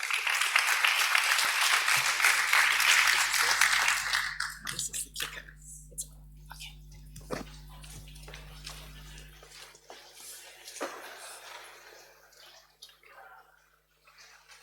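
Warm audience applause at a tech conference in Berlin welcoming a speaker to the stage, loud dense clapping for about four seconds that thins into scattered claps, with a low hum and a few faint noises as it dies away.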